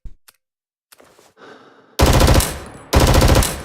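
Automatic rifle firing on a practice range in the Vietnam-era shooter Rising Storm 2: two loud sustained bursts of rapid fire, close and harsh, after a few faint clicks and handling sounds.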